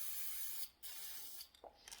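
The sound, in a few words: spray paint sprayed into a takeout container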